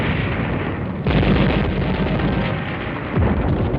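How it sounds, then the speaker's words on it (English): Rumbling detonations from drums of gasoline and motor oil blown up inside buildings across Manila in 1945, a continuous loud roar with heavy low booms surging at intervals, in old wartime film sound. "Barrels and drums of gasoline and motor oil were detonated by the Japs inside buildings from one end of Manila to the other"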